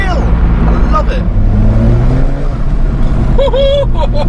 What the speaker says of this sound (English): you hear the flutter of the turbo